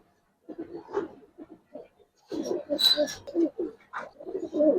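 Silver Giribaz pigeons coo in a series of soft, throaty phrases, close by, with a short gap before a denser stretch of overlapping calls.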